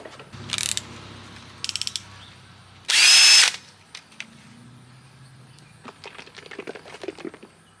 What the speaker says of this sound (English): you stick this in a drill and just polish it with that stuff